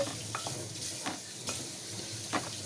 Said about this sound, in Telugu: ఆనియన్స్ చెక్క లవంగాలు స్టార్ ఫ్లవర్ మొత్తానికి మొత్తం వేయించుకుంటున్నామండి